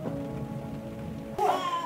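Rain falls outside over a yard where chickens stay out in the downpour, a steady soft hiss behind other household sounds that shifts abruptly partway through.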